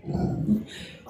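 A dog whimpering and grumbling at a house door, a short close low whine with a throaty growl-like edge, brief and fairly loud.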